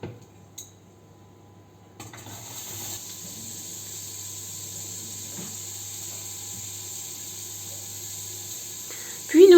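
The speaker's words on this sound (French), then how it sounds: "faire revenir les oignons dans un peu d'huile d'olive" Chopped onions fry in olive oil in a pan, giving a steady, even hiss that starts after a brief quiet moment and carries on unbroken, with a small clatter at the very end.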